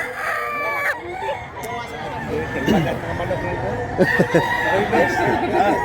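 A rooster crows at a Cebu poultry market where a white gamecock is up for sale, its calls rising over steady crowd chatter and clucking fowl close by, with a second crow following later.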